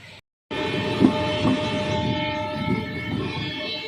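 An express train pulls into a two-platform station, its horn sounding loud and close over a steady heavy rumble and wheel noise that fills the whole stretch.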